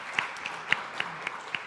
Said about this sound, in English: Let's applause Mariliis again.